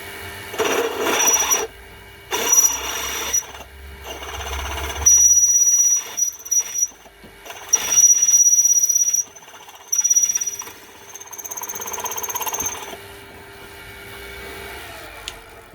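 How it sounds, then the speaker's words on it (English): A power drill with an 8mm bit bores into metal for a lathe chuck back plate, whining in several separate bursts, a high steady tone with grinding underneath, stopping and restarting with short quiet gaps between runs. "Narrowing with the 8mm drill."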